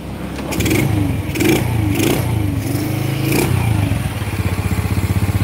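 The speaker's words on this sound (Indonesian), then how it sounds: "ini mesinnya sudah kita rakit dan suaranya sudah cukup halus ya teman-teman" A freshly reassembled Honda Grand motorcycle engine revs up and down repeatedly, loud and close, its throttle blips rising and falling in a steady rhythm over a rough idle.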